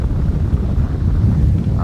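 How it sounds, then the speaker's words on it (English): A gust of wind blows over the water on a bass fishing outing, a loud, close, buffeting rumble against the microphone that holds steady throughout with no talking. "we got a nice little gust of wind coming through here"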